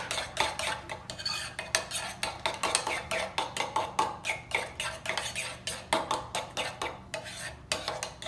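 A utensil scraping and clinking against a bowl while sandwich ingredients are mixed, a steady run of rhythmic stirring strokes, close and fairly loud with no talk.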